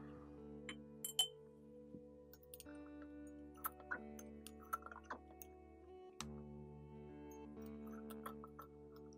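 A glass pipette clinking against a glass bottle while perfume is mixed, giving several faint, sharp, scattered clinks over a steady low hum, with no talking.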